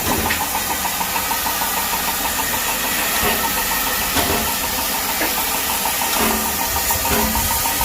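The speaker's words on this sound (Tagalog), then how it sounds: "Ayan guys, ang steam engine" A steam locomotive at Kingsley & Froghall railway station chugs and knocks in a steady, loud, continuous rumble, close by and with no talking.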